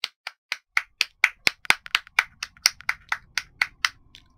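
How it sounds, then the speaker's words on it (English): A single pair of hands claps about eighteen times in an even, steady rhythm. The crisp, close slaps are alone, with no talk, and fade slightly toward the end. "Dramatic clap."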